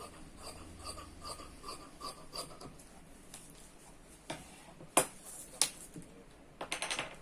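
Scissors cutting fabric to a 56 inch length for a long Anarkali gown, a series of close, crisp snips and clicks, irregular, with louder sharp cuts toward the end.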